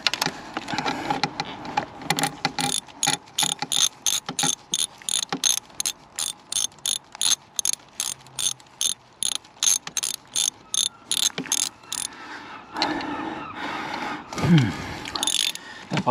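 Bolts on the EGR valve of a Mercedes OM642 diesel engine in a W204 C350 CDI being unscrewed with a ratchet, giving long runs of rapid, close clicking that stop and start, with brief pauses and a few handling knocks near the end.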